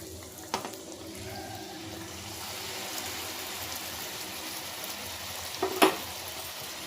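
Besan puris dropped into hot oil for deep-frying give a steady, soft sizzle close by, with a couple of brief louder bursts near the start and toward the end.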